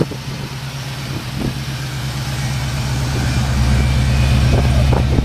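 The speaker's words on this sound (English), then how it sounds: "Exhaust sounds real nice." A 1967 Chevrolet El Camino movie car idles through its exhaust with a deep, steady, throbbing rumble that builds slightly louder toward the end, with nothing else heard.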